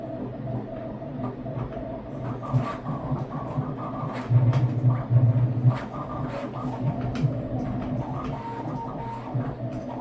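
An Ender 5 S1 3D printer hums steadily as it prints bamboo-colored toolhead parts, with tonal stepper-motor whine, a louder burst of movement midway, and occasional soft clicks; no one speaks.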